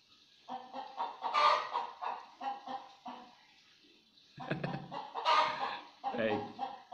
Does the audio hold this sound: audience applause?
no